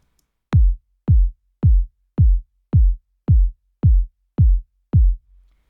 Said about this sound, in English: One is a low kick. It sounds like this.